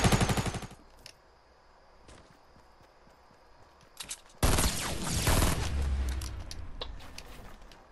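Gunfire in a shooter video game cracks out in sharp bursts: a rapid volley at the start, scattered single shots, then a dense sustained barrage of fire and noise in the second half, with no talking.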